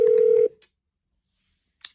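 A phone line gives a short steady electronic dial tone for about half a second, then cuts off, leaving near silence before a faint brief click.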